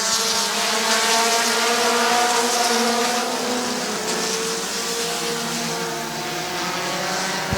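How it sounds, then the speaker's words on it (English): Race cars at Midvale Speedway roaring together in a loud, continuous engine drone with rising and falling pitch bands as the field circles the track. "Schreffler and Finlayson get together a little bit in turn number 2."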